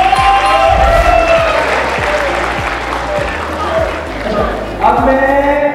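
An audience at a youth club event claps in sustained, dense applause for a few seconds, loud and close, with a voice speaking over part of it and a fresh swell near the end.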